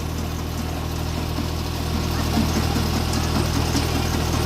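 A tractor engine idles in a front yard with a steady low throbbing rumble that grows slightly louder partway through, close by and continuous, with no talk over it.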